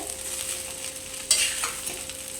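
Egg fried rice tossed with sauces is stirred in a hot pan, a soft scraping and gentle sizzle running steadily close by, with one sharper clatter of the utensil partway through.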